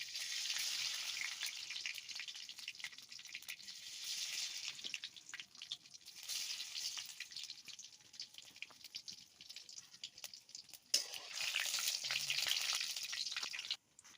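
Whole cumin seeds and a little sugar sizzle in hot oil for a meat dish, a soft, continuous crackle that swells and fades with a few clinks and splashes, heard alone at moderate volume.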